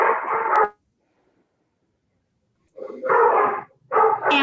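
A dog barks over a remote call line during a city planning commission meeting: one loud burst, a second of silence, then two more close, fairly loud barking bursts with no talk.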